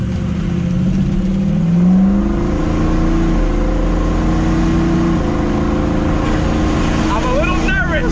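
A big-turbo Ford F350 truck engine roars loudly and steadily as it accelerates from a brake-boosted launch, with a rising whine from the turbo and a fluttering burst near the end.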